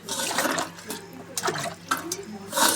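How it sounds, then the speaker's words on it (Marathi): Dishes and cups being washed under a running tap, with intermittent splashing and clinking close by while water flows into a sink, interrupted by short pauses. "कप भांडे धुते"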